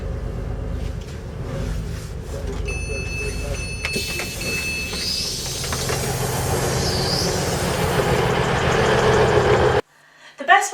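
A Transpennine Express passenger train bound for Manchester Victoria runs with a steady low rumble, with brief chime tones and a public-address voice over it, ending in a sudden drop.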